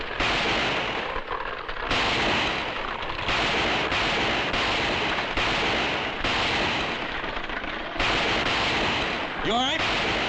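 A western shootout fills the scene with repeated loud gunshots fired in quick irregular bursts, with a ricochet whine near the end and voices mixed in.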